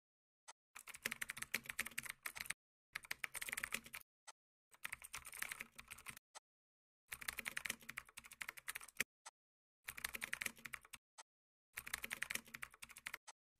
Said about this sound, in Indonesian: silahkan tekan F2 pada keyboard lalu ganti nama filenya